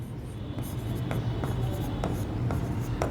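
Pen scratching on paper while working a straight-line maths problem, a run of quick, close scribbling strokes with small clicks and taps over a low background hum.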